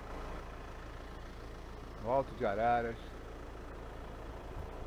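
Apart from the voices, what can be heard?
diesel engine hum in the background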